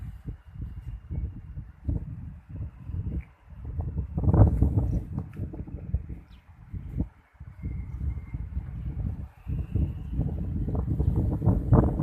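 Strong, gusty wind buffets the microphone outdoors while a Thai chula kite of three sok and one khuep is flown, a rough low rumble that rises and falls in surges, with no talk.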